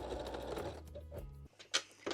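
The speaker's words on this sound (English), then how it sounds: "Now take your fold over elastic, decorative elastic, and let's move to regular sewing machine." A regular sewing machine runs in brief bursts while stitching fold-over decorative elastic onto a lace bralette, with a steady mechanical whir that pauses and restarts.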